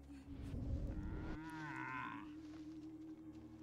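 A single drawn-out cow moo in the video game Destroy All Humans, fairly faint, rising and wavering over low background noise and a steady hum.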